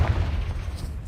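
A Confringo fire spell blast in the video game Hogwarts Legacy gives a short, deep booming rumble that stays loud and low for about a second.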